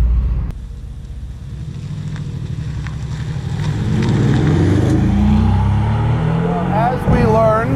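A 2021 Mercedes-AMG GT R engine drones loud and close while driving, its tone climbing steadily as the car picks up speed, with road and wind rush underneath.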